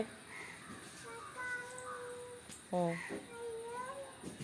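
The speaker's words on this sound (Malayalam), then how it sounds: "ഒരു കാക്കേൻ്റെ പാട്ടിടുമോ" A recorded crow cawing plays back, with one strong harsh caw near the middle and fainter calls around it, fairly close and set against a quiet room.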